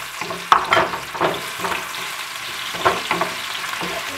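Onion and beef slices sauté in a pan with garlic for Filipino ginisang beef, giving a steady close sizzle broken by several sharp bursts of stirring and spatula scraping.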